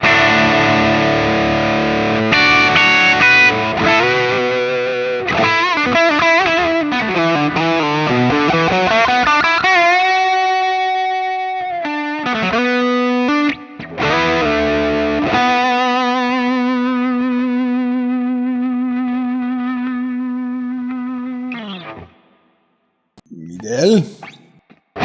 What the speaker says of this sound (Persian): صدای درایوش رو بشنویم.